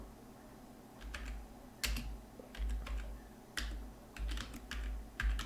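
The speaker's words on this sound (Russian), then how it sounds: "Что-то там печатает" Fingers type on a computer keyboard in irregular bursts of close, crisp keystrokes, with short pauses between runs and soft low thumps under the clicking.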